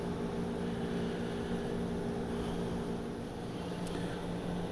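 F-15E Strike Eagle jets taxiing in the DCS flight simulator, a steady low engine drone with tonal hum, continuous and moderately loud without speech.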